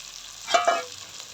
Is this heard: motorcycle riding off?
no